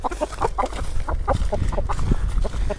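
Chickens cluck in a backyard, repeated short clucks from several birds close by over low rustling background, with no talk.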